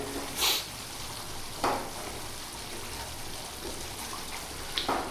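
Meat for white karahi sizzles softly in a karahi over a lowered gas flame, a low steady frying hiss broken by a few brief louder spits and stirring clinks.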